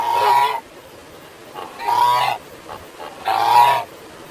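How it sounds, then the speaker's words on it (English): A goose honks three times, each call loud and drawn out, with short quiet gaps between them. "goose, goose means kalhans"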